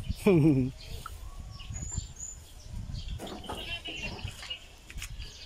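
A goat at a livestock purchase in San Vicente, Baao, Camarines Sur, gives one loud, wavering bleat up close at the start, then faint farmyard noises and distant voices follow.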